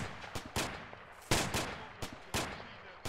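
Rifle fire with tracer rounds in a military video game: several sharp, loud shots and short bursts at irregular intervals, each cracking out and quickly decaying, with no talking.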